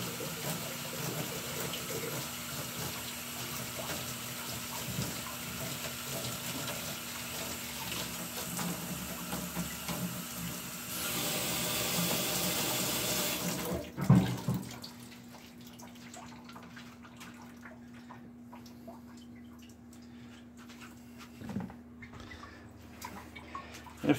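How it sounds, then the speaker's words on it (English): Tap water runs into a salad tray used for soaking microgreen trays, a steady rushing stream that brightens and fills before cutting off abruptly, leaving quieter drips and small knocks afterward. "fill it up with water"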